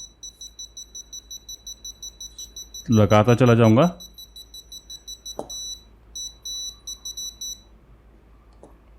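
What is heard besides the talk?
beeping of a tester pen checking a wire for breaks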